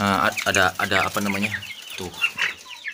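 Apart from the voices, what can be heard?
chickens clucking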